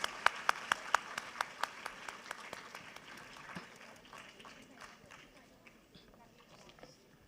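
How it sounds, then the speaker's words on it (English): Audience applause for the panelists and dignitaries at an international conference of chief justices, a burst of claps that is sharp and distinct at first, then thins into scattered, fading clapping in a large hall. "can we have a huge round of applause for our esteemed panelists and dignitaries"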